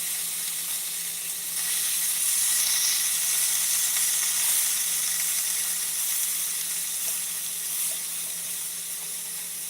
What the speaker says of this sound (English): I boil my sausage down first, and then I sizzle it up just a little bit